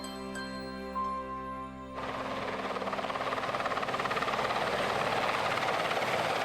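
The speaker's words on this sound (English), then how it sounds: "When Marine One, the president's helicopter, lands on the south lawn" The President's Marine One helicopter's rotor suddenly swells into a loud, steady pulsing roar after a quieter hum as it lands on the White House south lawn, close and continuous.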